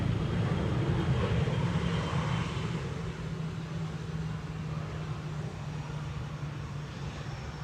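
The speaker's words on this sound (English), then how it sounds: "Time for a KLM A321neo arriving from London Heathrow, flight 1002." A KLM Airbus A321neo lands on Schiphol's Polderbaan runway 18R, its broad jet roar steady and fairly distant, easing slightly after the first few seconds.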